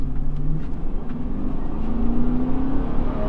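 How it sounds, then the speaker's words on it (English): A 2001-2006 GMC Yukon Denali engine pulls away from a stop onto a highway, a steady low rumble and whir inside the cabin that rises gradually in pitch as it accelerates. "we'll go ahead and stop and then accelerate, give you a chance to hear it in action"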